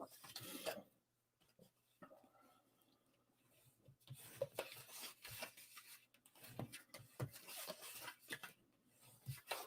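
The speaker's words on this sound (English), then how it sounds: "burnish our score lines." Burnishing tool rubbed along score lines on paper for a small hexagon box, making dry, close scraping strokes in irregular bursts with quiet gaps between them.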